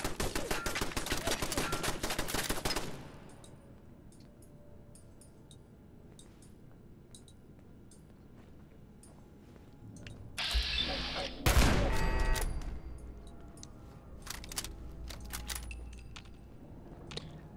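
Rapid automatic turret gunfire in Fallout 4, a dense burst of loud shots at first, then quieter mechanical clatter and another heavy burst of firing later, with someone talking in between.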